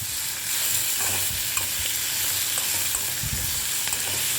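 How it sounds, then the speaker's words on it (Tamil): Plantain and onions fry in a pan with a soft continuous sizzle, while a utensil scrapes and stirs in irregular strokes, close by with no talk. "இப்போ வெங்காயம் எல்லாம் போட்டதுனால லைட்டாக கொஞ்சமாக உப்பு போட்டுட்டு இது மாதிரி ஸ்டர் பண்ணிடலாம்"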